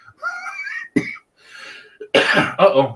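A few short, rough coughs with breathy throat sounds between them, close by, ending in a harsher burst of coughing.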